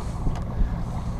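Steady wind rumbles and buffets across open water from a boat, a broad continuous roar with low gusts and no voices.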